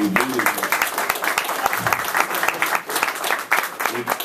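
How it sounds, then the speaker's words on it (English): A crowd of attendees applauds for an umpire at a college baseball coaches' awards event, a sustained burst of many hands clapping, close and loud, with a voice speaking briefly over the start. "clap for him once"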